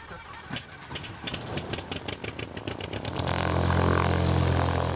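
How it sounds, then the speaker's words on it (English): A small kit-built airplane engine is run for a test, with rapid clicking as it cranks, then catching and settling into a loud, steady, close idle drone. "For a little engine test."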